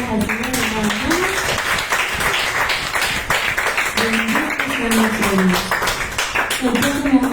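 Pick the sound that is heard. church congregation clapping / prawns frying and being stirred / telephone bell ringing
church congregation clapping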